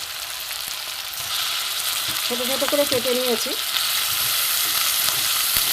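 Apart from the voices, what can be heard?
boneless chicken pieces frying in a pan with tomato, onion, garlic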